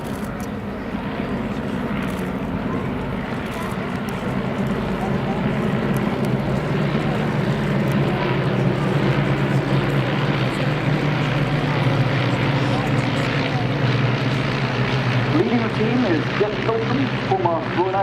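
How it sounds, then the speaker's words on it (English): Eight de Havilland Gipsy Major piston engines of 130 horsepower drone steadily in flight at an RAF Cosford airshow, a loud continuous propeller roar that holds throughout with faint pitch shifts near the end. "the sound of those 8 130 horsepower de Havilland Gypsy Major engines"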